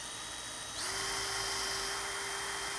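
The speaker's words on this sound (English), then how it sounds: "But I'm drilling those to give this a little bit of tooth." A power drill bores shallow holes while repairing a chipped Mauser toe, its steady high-pitched whine shifting up in pitch partway through as the bit bites in, close and alone.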